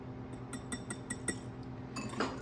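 A small wire whisk stirring dry ingredients in a bowl for orange coconut cookies, a quick series of light metallic clinks and taps against the bowl, close and fairly quiet.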